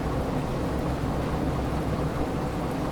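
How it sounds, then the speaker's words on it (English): Steady, dense rainstorm hiss in the train simulator Derail Valley, a continuous wash of falling rain with low rumbling underneath, even and unbroken throughout, with no voices. "I love the storms in this game."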